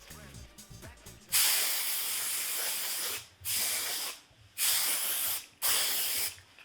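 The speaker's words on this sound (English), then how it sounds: "Would you like some spray glitter?" Spray glitter hisses from an aerosol can onto styled hair in four long bursts with brief pauses between, loud and close.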